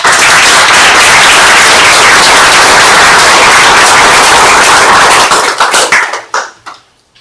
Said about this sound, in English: would you please join me in giving them a round of applause?